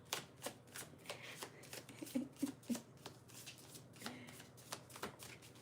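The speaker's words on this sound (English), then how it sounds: "I'm gonna do 2 more shuffles" A deck of cards shuffled repeatedly by hand, with sharp crisp riffling bursts coming in quick irregular runs, up close and fairly quiet, with a faint murmur of voices in the background.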